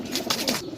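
Pigeon cooing in three soft, evenly spaced pulses within a moment, close by and moderately loud, with no talking over it.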